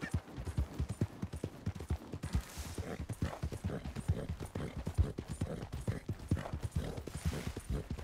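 Steady clip-clop of horse hooves at a trotting rhythm in the video game Red Dead Redemption 2, close and continuous, with no talking.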